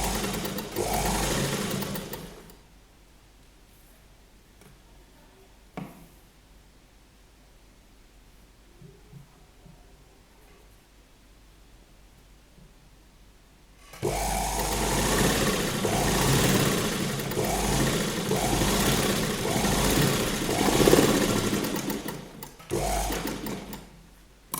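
A sewing machine stitches a kurti placket in two loud bursts of steady running, the first lasting about two seconds and the second about ten, with a quiet pause between them.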